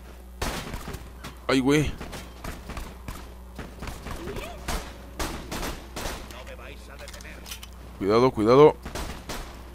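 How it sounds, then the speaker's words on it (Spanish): An enemy fires at the player in Borderlands 2, with scattered sharp gunshots cracking through game ambience. Someone talks excitedly between and over the shots, and brief electronic warbling effects are heard twice. "ese güey me está disparando"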